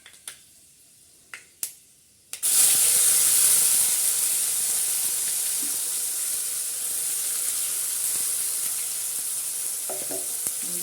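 Ground masala frying and being stirred in oil in a pan while cooking a mackerel curry, a loud steady sizzle that bursts in after a few sharp clicks and carries on close and continuous, with faint stirring scrapes late on.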